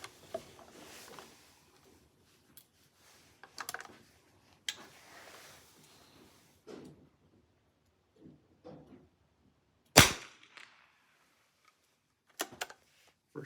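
A single sharp crack from an Anschutz 54 .22LR rifle, fired offhand at a target 100 yards out, stands out in an otherwise quiet outdoor scene with only faint small clicks and rustles.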